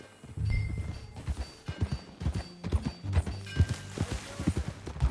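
Horse hooves clip-clopping at a steady riding gait in Red Dead Redemption 2, a close, rhythmic run of hoofbeats over low ambient rumble, with a brief whinny-like sound.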